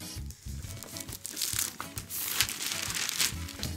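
Plastic wrapper crinkles and tears as it comes off a Razer BlackWidow Chroma V2 keyboard, close-up rustling with irregular crackles and rips running throughout, no talking.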